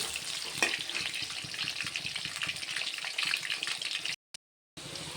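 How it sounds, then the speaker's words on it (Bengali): Potatoes frying in hot oil for a chicken curry, a close, steady sizzling crackle that runs continuously before a short cut near the end. "আলুগুলো আমি লাল করে ভেজে উঠিয়ে নেব"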